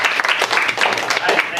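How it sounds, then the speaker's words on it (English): Brief burst of audience applause for a speaker at a talk, a dense patter of clapping at steady loudness with some voices mixed in. "Please give him a round of applause."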